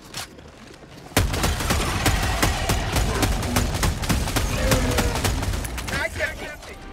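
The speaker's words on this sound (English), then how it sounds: "the Dominator is basically a long-range shotgun, firing single rounds with no spread" JAR-5 Dominator rifle from Helldivers 2 firing a rapid series of loud, sharp single shots in a steady rhythm over dense game noise, with a voice talking underneath.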